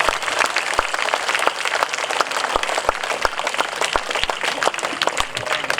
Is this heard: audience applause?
yes